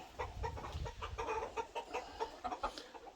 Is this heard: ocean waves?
no